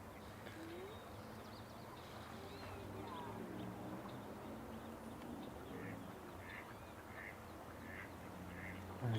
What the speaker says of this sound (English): I just can't help shooting these little